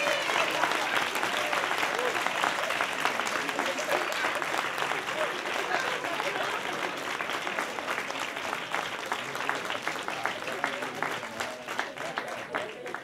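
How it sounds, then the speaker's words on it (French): At a university thesis presentation final, the audience gives sustained applause, a dense, even roar of many hands with individual claps sharpening toward the end, with voices faintly mixed in. "Je propose qu'on les encourage et qu'on les applaudisse une nouvelle fois."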